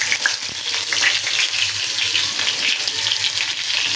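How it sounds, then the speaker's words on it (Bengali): Chopped garlic sizzles in hot oil while tempering dal, a steady bright crackling hiss that stays close and loud throughout with no voices. "এখানে ডাল আমি ফোড়ন দিব, ডালটা হয়ে আসছে। যে রসুন কুচি"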